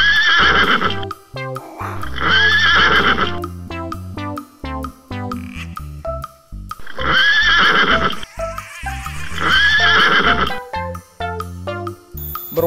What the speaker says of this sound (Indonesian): Ini kuda zebra nih, si kuda belang